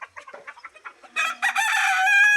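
Egyptian Fayoumi chickens let out of a damp-littered coop, a run of short close clucks building into a loud, sustained crow that carries to the end.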